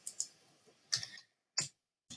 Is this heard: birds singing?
no